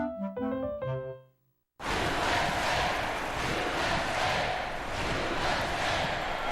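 A large crowd at a basketball event roars and cheers, loud, sustained and unbroken, after a short musical jingle and a moment of silence.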